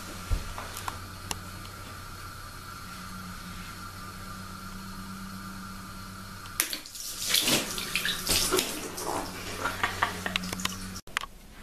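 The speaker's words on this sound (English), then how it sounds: "filling it up with too much water." A balloon fills with water from a tap, a low steady hiss of running water for several seconds, then a louder splashing, gurgling rush with irregular bursts near the end.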